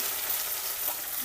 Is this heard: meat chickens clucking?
no